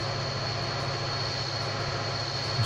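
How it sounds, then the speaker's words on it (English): An F40PHL-2 diesel locomotive in a train simulator pulls carriages slowly up to speed on the Miami to West Palm Beach line, a steady low engine drone with a constant hum, unbroken throughout. "it's taking so long for this engine to get these carriages up to speed"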